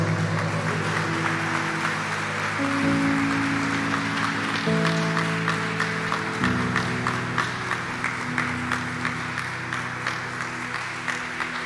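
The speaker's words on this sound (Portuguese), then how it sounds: "Dê um glória a Deus e uma salva de palmas ao Senhor." Sustained applause from a church congregation, steady clapping over a sustained musical backdrop of held organ or keyboard chords, no voices standing out.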